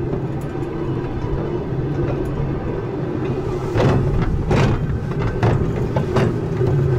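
A steady low rumble like riding on a train, with rhythmic clatter and brief rattling bursts in the second half, continuous throughout.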